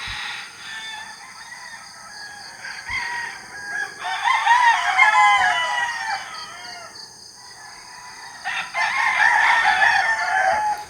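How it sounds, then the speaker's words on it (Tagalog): A rooster crows twice on a cold, windy morning, long strained calls rising over a steady hum of background noise, moderately close and with no talking. "manok."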